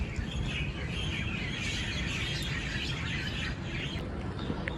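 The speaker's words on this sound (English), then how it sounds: "Can you see the birds? They are chirping." Birds chirp and tweet at Merlion Park in Singapore, with a steady stream of small calls over continuous outdoor background noise.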